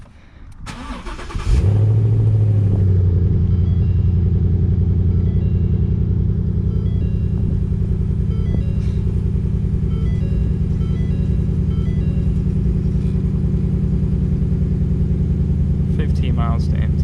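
A salvaged Ford Mustang with its windshield missing cranks and fires up, then settles into a loud, steady idle close by, with a deep low rumble holding for the rest of the stretch and no talking over it.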